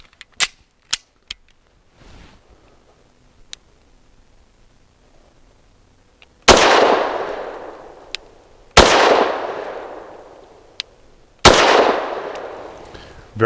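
A Derya Arms Melik shotgun fires Norma 65 grain frangible training rounds on a range, giving three loud, sharp blasts spaced a few seconds apart, each with a long decaying roar. Small clicks and clanks of handling come before the shots.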